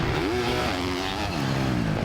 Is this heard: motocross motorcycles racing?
yes